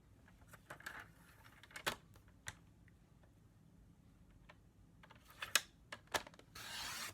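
A paper trimmer blade slides across card stock in a few short rasping strokes and clicks, quiet and close, ending in a longer scraping cut.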